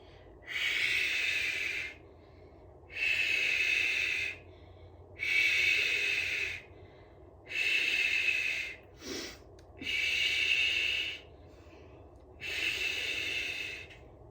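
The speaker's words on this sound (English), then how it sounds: "Breathe in and out." Deep, steady breathing during a workout routine on a mat: six long, loud, close-up breaths of even length, separated by brief pauses, with a short catch of breath partway through.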